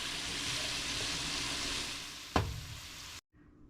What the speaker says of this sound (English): So we're going to cook this down until The vegetables are done and all the liquid has cooked out.